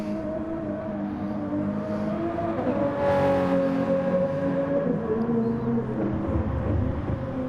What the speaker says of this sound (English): Love the sound of that Supra.